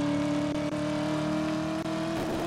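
A car engine in Driver: You Are the Wheelman holds a steady, loud, droning hum with a couple of small dips, sounding close and continuous for a few seconds with no voices.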